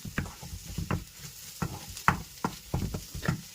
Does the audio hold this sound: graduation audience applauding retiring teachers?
no